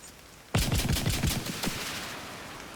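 Rapid gunfire in a video game rattles off in a quick burst of about eight sharp, close shots over roughly a second, then trails off into a low decaying tail.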